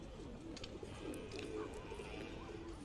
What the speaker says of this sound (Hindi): ये कबूतर ऊपर आ गया ना इसलिए